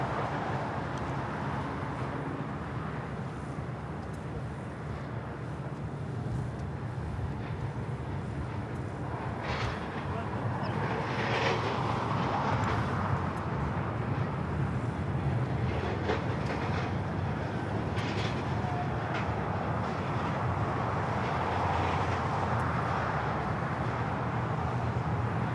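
An El Al Boeing 787 Dreamliner bound for Tel Aviv rolling down runway 25 right at Los Angeles airport, a continuous distant rumbling roar that swells louder through the middle and stays steady to the end.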